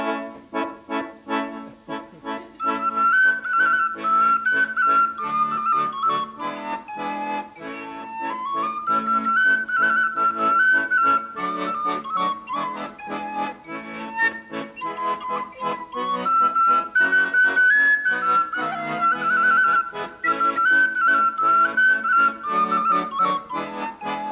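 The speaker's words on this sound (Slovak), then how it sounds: "tak som akorát dokončil píšťalku" A freshly made homemade whistle (píšťalka) plays a lively Slovak folk tune, a bright, continuous melody with quick ornamented notes, heard solo and close for over twenty seconds.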